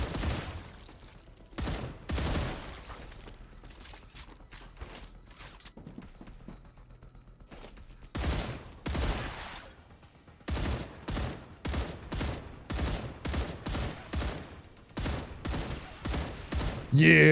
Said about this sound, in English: Yeah, sniper shots.